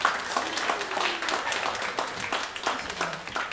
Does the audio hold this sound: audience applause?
yes